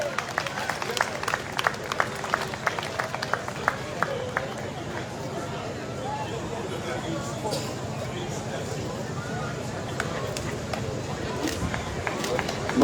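At a patronal festival, scattered outdoor clapping from the public comes in quick irregular claps, then fades into a murmuring crowd with distant chatter.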